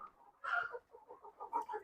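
Four-month-old jet-black Kadaknath chickens, roosters and hens, cluck and call near a farm in village Sukhe Wala by Zira, with a louder burst midway and steady short clucks after it.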